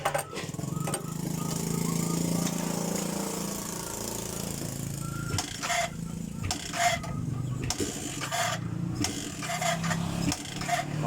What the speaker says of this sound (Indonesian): Motornya mau menyala tapi nggak mau menyala.